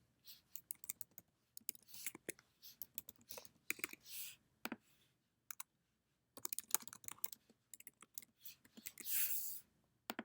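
Quick bursts of keyboard typing and a few sharp clicks come in irregular runs, close and fairly quiet, with brief pauses between.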